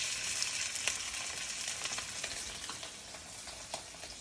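Salmon skin sears in a hot pan, a close, steady sizzle and crackle with small popping bursts throughout, and no talking.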